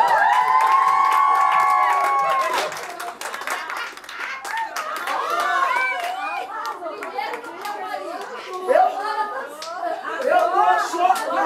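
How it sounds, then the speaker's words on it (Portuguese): A bridal shower crowd of relatives and friends claps and cheers for a drag queen performer, dense hand-clapping and excited voices filling the room, with children's chatter and speech mixed in throughout. "Pode aplaudir, gente!"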